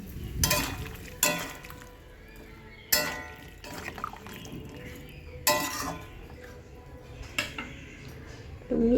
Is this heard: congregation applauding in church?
no